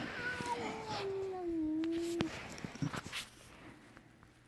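An angry cat lets out a long, rising-and-falling caterwauling meow up close, followed by a few short scuffling knocks and then quiet.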